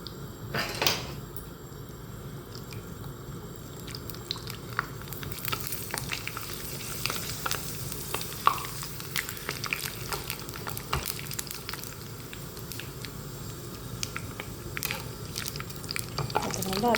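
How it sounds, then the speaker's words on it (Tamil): Appalam (papadum) frying in hot oil in a home kitchen, a soft steady sizzle with scattered crackles and a few utensil clinks, faint and close, with occasional quiet talk. "வந்து அப்பளம் போட்டு பொரிக்கலாம்"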